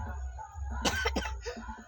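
A person coughs a few times in quick succession, close and fairly loud, against a quiet background.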